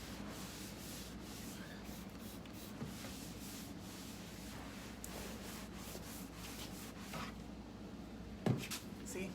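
Steady rubbing and scrubbing as crud is wiped off a surface with alcohol, a continuous close friction texture with one brief knock near the end.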